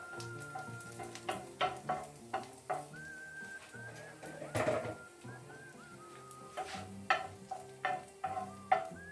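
Oil sizzling as onions fry in a pan with stirring and utensil clinks, a steady crackle with intermittent scraping knocks throughout, close by.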